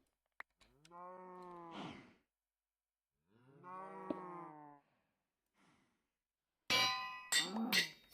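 Cows in the video game Minecraft moo twice in long, drawn-out calls separated by silence, followed by a burst of sharper clanking and creaking game sounds at the end.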